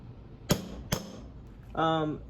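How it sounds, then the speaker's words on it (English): Two sharp metallic taps of a small hammer about half a second apart on a GearX limited-slip differential for an AWD Civic, followed by a brief voice. "should we go big hammer or little hammer? Let's start with a little hammer."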